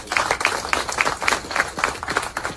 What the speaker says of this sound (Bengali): এনাদের জন্য একটা জোরদার হাততালি হচ্ছে